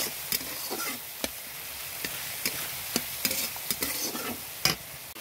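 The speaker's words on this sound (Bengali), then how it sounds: "আলুটা দিয়ে ভালো করে কষিয়ে নেব।" Fried potatoes stir-fried with spices in a pan: a soft background sizzle broken by irregular sharp clacks and scrapes of a spatula, fairly quiet and without talk.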